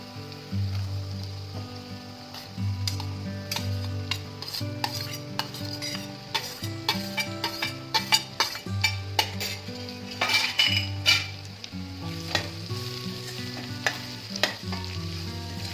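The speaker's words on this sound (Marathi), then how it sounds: "आणि आता बीट ही आपण व्यवस्थित भाजून घेऊया" Beetroot and onion, seasoned with asafoetida, sizzle steadily in a pan as a spoon stirs and clinks against the metal again and again. Background music plays throughout.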